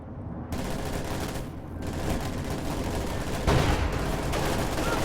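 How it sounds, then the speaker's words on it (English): A light machine gun fires steadily in a real-time strategy battle against shock troops, as a dense, continuous rattle of automatic fire and crackling gunshots that stays loud throughout, with no pauses. "LMG is firing on these shock troops."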